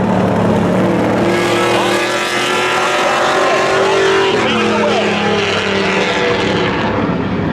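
Race cars launch at a spectator drag race at Seekonk Speedway, a loud, sustained engine roar that swells and drones, with an announcer talking over it.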